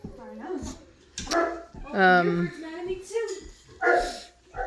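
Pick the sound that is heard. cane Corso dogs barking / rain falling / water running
cane Corso dogs barking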